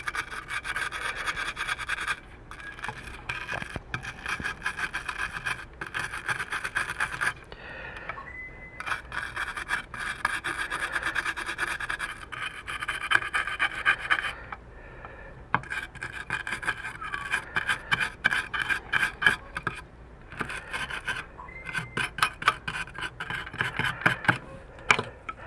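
Steady dry scrubbing and rasping against an old 1991 Mitsubishi 3000GT ECU circuit board, close and continuous with short pauses, no talking.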